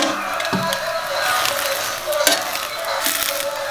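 An egg frying in a pan gives a loud, steady crackling sizzle throughout, with a few sharper pops and scrapes along the way and no one speaking.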